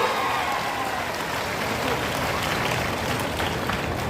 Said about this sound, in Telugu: మా ఆడబిడ్డలు పెద్ద ఎత్తున చప్పట్లు కొట్టి మద్దతు పలకండి